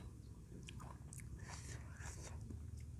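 Someone bites into and chews a Marian plum (mayongchid) fruit close to the mic, with crisp crunching bites and moist chewing over about three seconds.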